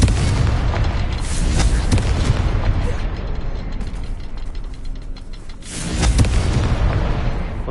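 A Confringo fire spell in the wizarding game Hogwarts Legacy bursts with loud booming explosions and crackling blasts. Dense rumbling combat noise runs throughout, with a heavier burst near the end.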